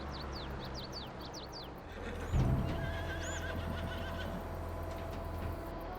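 Several horses in Farming Simulator 22 whinny in quick succession, then hooves clop and a low rumble continues with occasional faint whinnies over a steady background hum.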